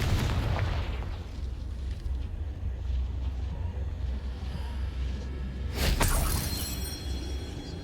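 In the Hogwarts Legacy video game, a Confringo explosion spell goes off as a sharp burst partway through, set against a steady rumbling bed of game ambience and effects.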